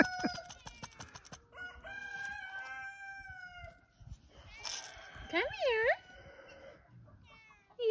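A stray cat meows a few times amid a busy yard with guinea fowl and chickens calling, a rooster crowing, and people talking to the cat nearby.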